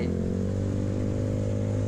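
Suzuki Soul GT 200 cc motorcycle being ridden, its engine giving a steady, low, droning hum with even harmonic tone throughout, close and constant with no talking.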